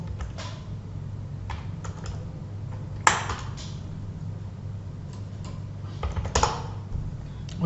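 Typing on a computer keyboard to enter a software name, a quiet run of separate key clicks with a couple of sharper taps, close by and with no talk.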